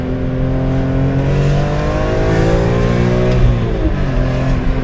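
BMW M3 E46 engine accelerating hard through a corner, a loud, steady close-up roar with rising harmonics that dip briefly near the end as the revs shift, with no speech.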